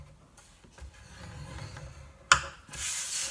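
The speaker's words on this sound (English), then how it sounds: "on the 7-inch side I'm going to score it at 1 inch" Stampin' Up scoreboard scoring cardstock: soft, close rubbing and scraping of a tool drawn along paper, then a sharp click and a brief louder scratchy rustle, with no voices.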